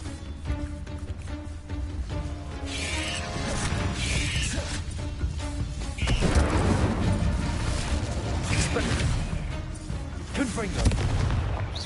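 The Incendio fire spell cast in the Hogwarts Legacy game, a loud, dense roar of crackling, whooshing flame and crashing impacts that runs on continuously, layered over game background sound.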